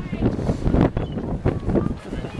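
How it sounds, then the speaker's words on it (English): Gusty wind on a pier in California buffets the microphone in rough, rumbling bursts, loud and close, with no clear speech standing out. "it's pretty windy out, as you can tell."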